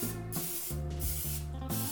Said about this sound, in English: take your olive oil spray and just give these a nice spray right on top